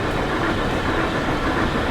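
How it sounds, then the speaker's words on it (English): Trains running in Transport Fever 2 with UK mods give a steady, loud rolling rumble of rail cars and engines that holds unbroken for the whole stretch, with no voices over it. "two trains entering the station at the same time"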